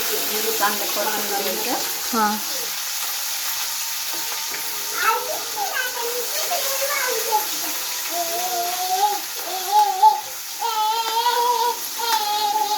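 Vegetables sauté in a pan with a continuous hissing sizzle under faint, intermittent voices in the background.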